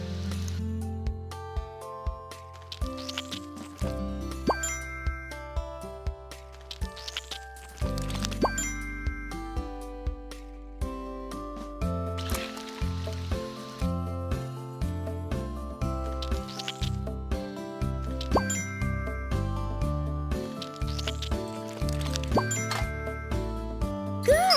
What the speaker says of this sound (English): Please carefully put the batter into the doughnut pan.